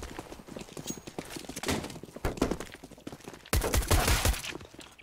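Gunfire rattles in the video game CS:GO on the Inferno map, sparse clattering shots over the first seconds, then a loud dense burst of fire past the midpoint, with game noise and no clear talk.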